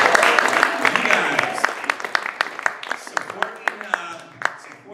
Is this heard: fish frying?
no